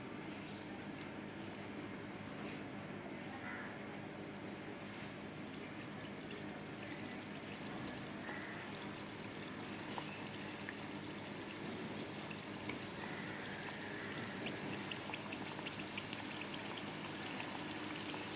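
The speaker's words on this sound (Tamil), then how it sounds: "மீடியம் ஃப்ளேமில் வச்சு தான் பொரிக்கணும்" Badusha dough fries in hot oil over a medium flame, a faint, steady bubbling sizzle that continues evenly, with an occasional small pop toward the end.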